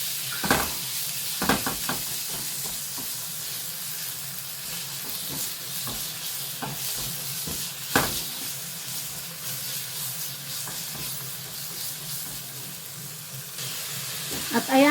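Pork frying in a pan, a constant close sizzle and hiss lasting throughout, broken by repeated sharp scrapes and clacks of stirring, with no talk.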